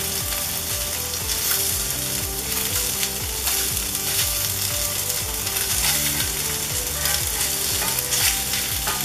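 Sausage frying in a cast iron pan, a steady close sizzle with continuous crackling spatter and rhythmic scraping clicks as it is stirred, with no talking.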